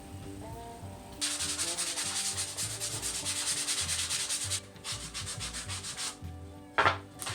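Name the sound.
sanding wood for a craft gift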